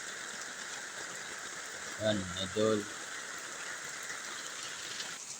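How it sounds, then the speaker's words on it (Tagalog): Heavy rain pours in a steady, even hiss that holds the whole way through, with a brief spoken voice near the middle. "lakas po ng ulan"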